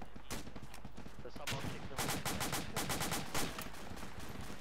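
High-explosive rounds fire in a military shooter video game, producing a dense run of sharp, loud bangs and bursts in an uneven rhythm with a few heavier hits, while voices talk beneath the gunfire.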